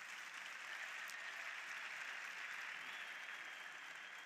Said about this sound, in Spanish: No quiero interrumpir aplausos.